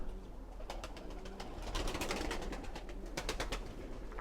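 Pigeons rest in a loft cage and give low, throaty cooing calls, several birds overlapping in soft rolling bursts close by, with no voices.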